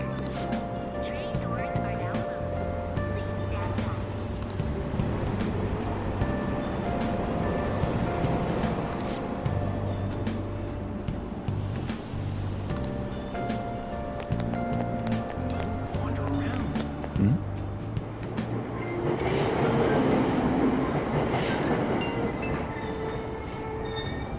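A subway train departs a station in Persona 5 Royal with a low rumbling drone, clattering wheels and rising electric motor whine, steady and close throughout, while a recorded announcement voice speaks over it.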